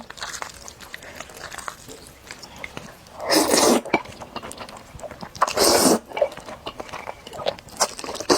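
Sticky spicy noodles with eggs being eaten up close, giving wet slurping and chewing bursts in two loud surges among softer mouth sounds, with no talking.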